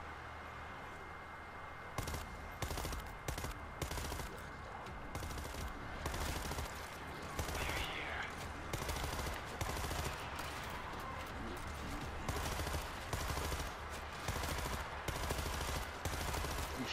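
Gunfire in the zombie shooter World War Z: rapid automatic bursts repeat steadily after a quieter opening, with a faint voice in the background.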